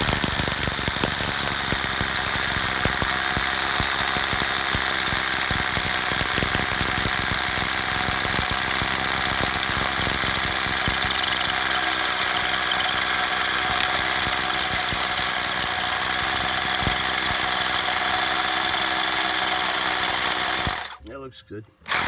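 A big hammer drill bores holes for pool cover anchors, a loud continuous rattling grind held for about twenty seconds before cutting off abruptly, close up with no speech over it.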